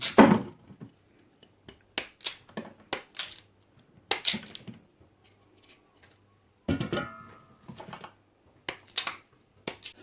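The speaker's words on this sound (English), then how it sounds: "at this stage, I'm going to peel my cassava" Cassava being peeled by hand for a grated coconut cassava dish, heard as sharp close scraping and cracking strokes in short irregular bursts separated by brief pauses, with no talking.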